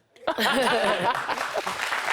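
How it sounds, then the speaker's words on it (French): Women in a television studio audience applauding, a brief burst of clapping that starts suddenly and carries on with some laughter mixed in. "c'est les femmes qui applaudissent en plus"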